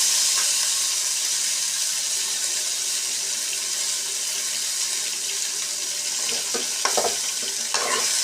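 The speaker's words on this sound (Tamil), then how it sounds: "இதெல்லாம் நல்லா வதக்கணும்" Sliced onions and small shallots sizzle steadily in a pan as they sauté, with occasional stirring scrapes and clinks toward the end.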